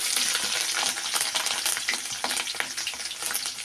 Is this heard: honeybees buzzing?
no